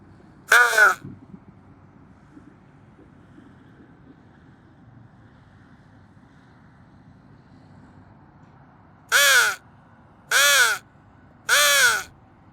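Crows caw outdoors: one harsh call near the start, then a long quiet stretch with faint wind, followed by three evenly spaced caws close together near the end, loud and clear.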